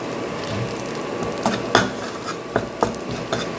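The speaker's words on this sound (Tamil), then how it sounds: "இந்த மாவை போட்டு இந்த கோதுமை மாவு தேங்காய் இதை போட்டு நம்ம வறுத்து எடுத்துடலாம்" Wheat flour and grated coconut are stirred and roasted in ghee in a pan, giving a low continuous sizzle with a few light scrapes and clinks of the spoon against the metal.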